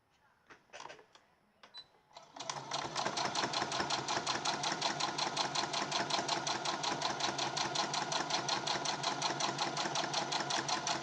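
A sewing machine stitches down the handles of a small fabric gift bag, running in a fast, steady, close mechanical rattle after a few brief clicks and handling noises, with no talk.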